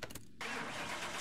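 Supercharged Mark 1 Ford Escort engine in Car Mechanic Simulator 2021 cranks briefly, then catches and settles into a loud, steady, close idle with no talk over it.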